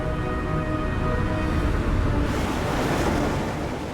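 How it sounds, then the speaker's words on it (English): Rough Atlantic surf at Porthcawl during Storm Brendan roars continuously, a dense, loud wash of breaking waves and wind with a swelling hiss midway through. "with the big waves comes the rough weather"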